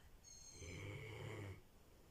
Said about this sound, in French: je souris parce qu'elle est là et elle ronfle